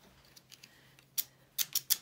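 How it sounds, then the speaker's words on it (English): Edging scissors snipping paper during a craft journal project, a few soft early snips followed by a cluster of sharper, louder crisp cuts near the end, close and alone. "I want my edging scissors."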